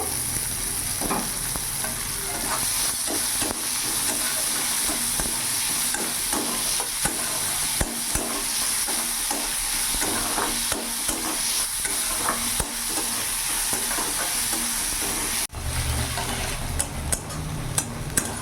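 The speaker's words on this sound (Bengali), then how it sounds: "পেঁয়াজটা আমি ভাজা ভাজা করে নিয়েছি" Finely chopped onions frying over raised flame in a pan, a steady loud sizzle with repeated scraping strokes of a spatula stirring them, close up and without talk.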